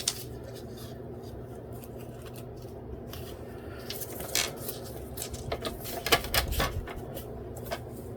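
Scissors snip through material close by, several quick cuts grouped together in the second half, over a faint steady background hum and light handling noises.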